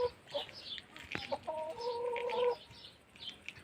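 Chickens in a village yard at a grandparents' rural house give soft, scattered clucks, then one drawn-out call, fairly faint against a quiet outdoor background.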